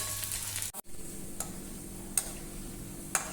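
Sliced okra (bhendi) frying in hot oil in a pan, giving a steady, close, moderately loud sizzle with a few faint ticks, and nobody speaking.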